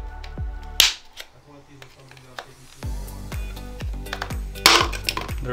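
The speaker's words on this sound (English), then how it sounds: "if you hear a pop, that's just the adhesive coming loose" Several sharp pops and clicks of adhesive releasing during a JBL Link 10 speaker driver replacement, scattered irregularly with small tapping sounds between, close up and moderately loud.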